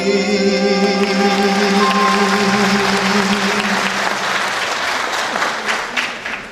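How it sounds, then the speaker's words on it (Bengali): Sustained applause from a concert audience at a Rabindra Sangeet gathering, a dense steady clapping that holds loud throughout and tapers only slightly near the end, with a faint held tone lingering underneath. "জোরে হাততালি হয়ে যাক আমার সব দাদাদের জন্য।"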